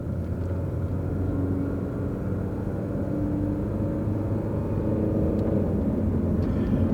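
Steady engine drone from inside an elderly Chevy PT Cruiser in drive as the automatic transmission shifts, a continuous low rumble with a slight dip in revs, no voices over it.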